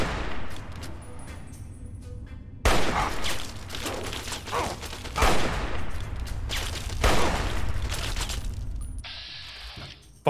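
Fallout 3 gunfire erupts in loud, repeated volleys, with sharp shots and bursts spaced through the clip, close and intense.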